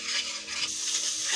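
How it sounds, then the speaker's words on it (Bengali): Spice masala with broiler chicken sizzles in a pan while being stirred, a brief, steady hiss of frying heard close up with no other sounds. "এখন খুব সুন্দর করে এটাকে কষিয়ে নিতে হবে"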